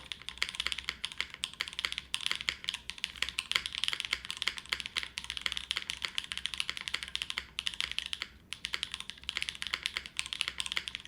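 Fast, continuous clacking of mechanical keyboard keys, close and crisp, with a brief pause near the end before the rapid typing resumes.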